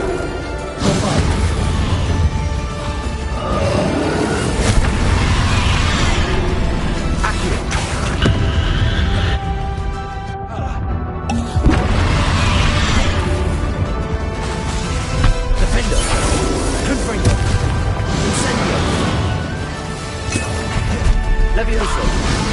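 Bombarda blasting-spell explosions in Hogwarts Legacy come as repeated loud crashing booms and impacts over dense game music and effects, with a voice speaking during the action.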